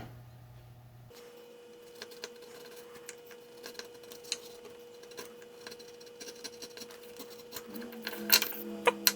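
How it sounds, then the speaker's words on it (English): A small V-groove hand chisel carves a line along a wooden minnow lure, making faint, sparse ticks and light scrapes over a quiet room hum, growing a little busier near the end. "to carve the lateral line, I'm using this just small hand chisel. It's the V-groove."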